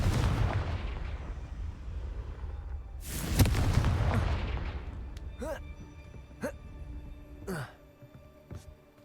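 Booming Confringo spell blasts in Hogwarts Legacy arrive as a dull low rumble with one sharp crack in the middle. Whooshing magical tones follow, and faint talk is heard alongside.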